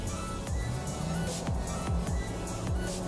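A Ford Ecosport with a six-speed automatic on a toll road accelerates under kickdown, its engine note rising amid cabin road noise, with a series of evenly spaced thumps.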